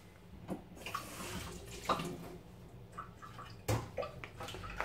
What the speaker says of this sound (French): je rince et je nettoie